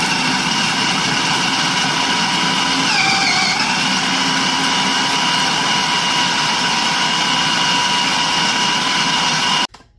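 A food processor blends chunks of beaver castor with a steady, loud motor whir and a dense grinding roar. A brief pitch wobble occurs partway through, and the motor cuts off abruptly at the end.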